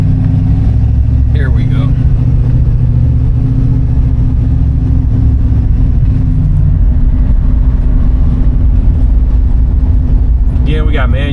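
A 1967 Mustang's engine idles with a deep, steady rumble, loud and close, with brief surges of revving and someone talking over it.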